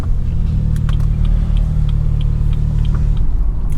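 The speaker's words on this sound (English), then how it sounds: "Listen to that turbo." Turbocharged BMW 340i engine running with a loud, steady low rumble from inside the car, faint clicks and ticks riding on top.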